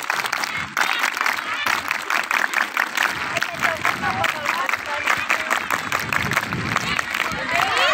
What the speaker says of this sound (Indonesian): Ya, seluruhnya Tepuk Pramuka.